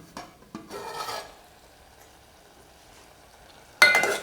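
Tomato curry being stirred and roasted in a pan, with a few short scraping strokes at the start, a quiet stretch, then a louder rasping scrape near the end.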